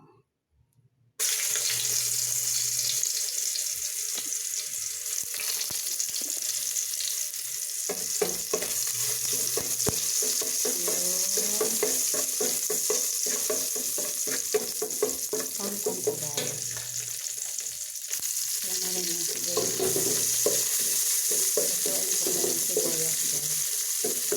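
Sliced onions sizzle and fry steadily in a pan for sautéed kangkong, a continuous close crackle with occasional stirring scrapes and clinks running for over twenty seconds with no talking.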